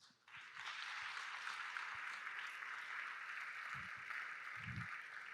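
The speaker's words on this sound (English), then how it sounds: "Give yourselves a massive round of applause." Sustained applause from a large audience at the ETHGlobal Lisbon hackathon closing ceremony, a dense steady clatter of clapping that swells in within the first half second and holds for about five seconds, with a couple of low thumps near the end.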